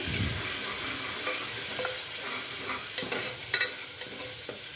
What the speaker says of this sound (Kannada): ಪೇಸ್ಟ್ ಹಾಕಿ ಮಿಕ್ಸ್ ಮಾಡುವ ಚೆನ್ನಾಗಿ